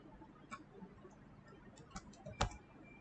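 A few sparse, light keystrokes on a computer keyboard while entering values in AutoCAD, soft close clicks over a quiet room hum.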